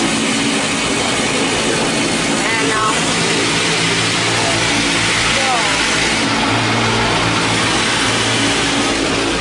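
Loud, constant rushing water and spraying jets fill an automatic car wash during the wash cycle, with a deep mechanical rumble beneath and brief muffled speech at the start.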